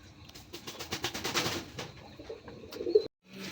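Desi pigeons coo softly in a market pen, a few low throaty calls close by amid shuffling and light background noise, with a brief drop to silence near the end.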